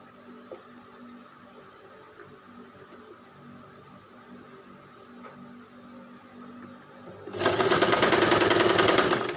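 A sewing machine stitches a spunbond face mask: a quiet room tone gives way to a sudden loud, rapid mechanical whirr of the running machine for the last two seconds, close by.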